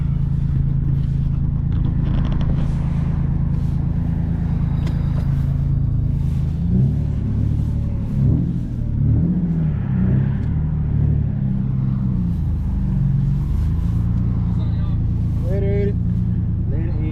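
A turbocharged Nissan 370Z engine with a twin fuel pump install rumbles at close range with deep, steady low-end drone, swelling as it revs and pulls away, no talking.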